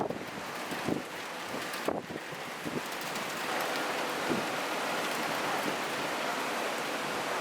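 Heavy rain and gusting wind outdoors by the sea near Singapore's southern islands, a steady hiss with wind buffeting the microphone and a few louder gusts early on.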